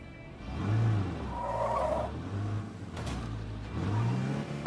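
A car in the State of Decay 2 video game drives and accelerates, its engine rising and falling in pitch over a few surges with some tire noise, moderately loud and with no talk over it.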